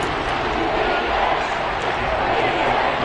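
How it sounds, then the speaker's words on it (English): Stadium crowd in a Madden football video game roaring steadily ahead of a big third down, a dense, continuous wash of cheering that holds at an even, loud level throughout. "The crowd getting into it as we come up on a big 3rd down."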